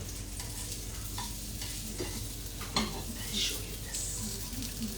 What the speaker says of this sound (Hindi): मेरा जो बैंगन है ऑलरेडी मस्टर्ड ऑयल में फ्राई हो रहा है